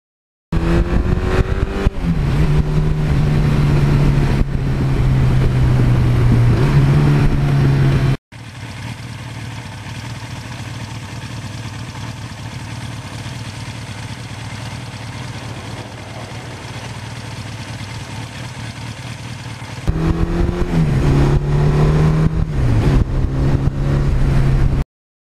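A 1982 Suzuki GS1100E motorcycle with 76,000 miles runs loud and close, with rising and falling revs at the start and end and a steadier, lower running note in between.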